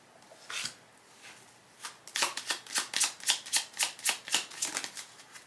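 Tarot cards shuffled close by in quick riffling bursts, a brief flutter first and then a steady rapid run of crisp card snaps, with no voices.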